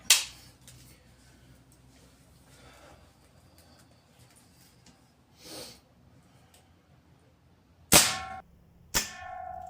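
A single-shot, one-pump air rifle fires a .177 pellet, giving two sharp, loud cracks close together near the end after a quiet stretch with faint rustling.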